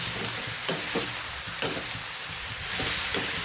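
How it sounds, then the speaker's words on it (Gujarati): A spoon stirs tomatoes and coriander into a carrot-and-cabbage sambharo in a pan, giving a few soft scraping strokes over a steady low sizzle, close and fairly quiet. "સરસ આપણે મિક્સ કરી લઈશું ટમેટાને અને લીલા ધાણાને"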